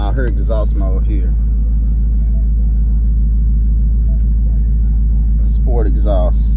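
Steady deep rumble of a 2024 Ford Mustang Dark Horse engine exhaust idling at a constant low drone throughout, with brief talk at the start and end.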